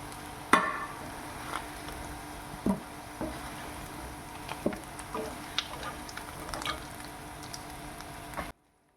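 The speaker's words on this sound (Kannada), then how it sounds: "ಈಗೆಲ್ಲ ಪಟೋಟನೂ ಕೂಡ ಹಾಕಿ ಇನ್ನೊಂದು ಸರಿ ಫ್ರೈ ಮಾಡ್ತಾಯಿದ್ದೀನಿ" Potatoes and blended masala frying in a pan for aloo dum gravy, a continuous sizzle with occasional stirring scrapes and clinks, close by and with no speech.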